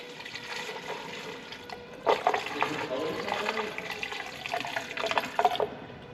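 Paint pours out of a bucket beside a Dresser IH TD20E dozer, a splashing liquid gush that swells and surges in several bursts, with a voice speaking faintly in the background.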